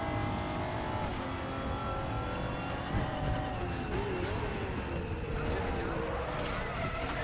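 GT4 race car engine in RaceRoom Racing Experience at Sonoma Raceway, a continuous loud drone that rises and shifts as the car accelerates, with someone talking over it.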